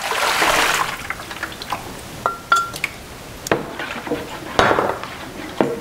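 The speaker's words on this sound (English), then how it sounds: "So I'm going to pour the salt into the cooler, the brine." Salt being poured into a cooler of turkey brine, a gritty pouring hiss and soft splashing with occasional clinks of a container, close and moderately loud.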